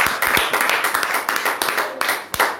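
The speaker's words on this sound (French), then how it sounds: "Applaudissons pour le Seigneur." A worship congregation applauds the Lord during a French-language praise service, quick irregular clapping from many hands mixed with a few sharper close claps, with faint voices underneath.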